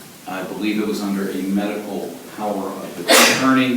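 A single sneeze bursts out near the end, right after continuous courtroom-style speech from a person answering questions about an arbitration agreement.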